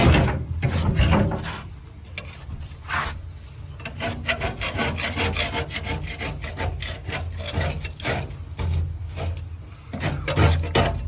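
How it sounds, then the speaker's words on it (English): Scraping spilt glue and gunk off a boat surface in the sun, a continuous run of rough rasping strokes, close and fairly loud, with no talking. "So I'm going to try to scrape all this stuff up as well."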